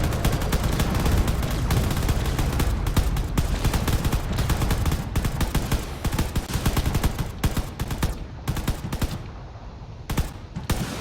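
A battleship in the Drone Wars video game fires its guns nonstop, with dense, rapid bursts of loud gunfire and booming shots that run continuously and thin out slightly toward the end.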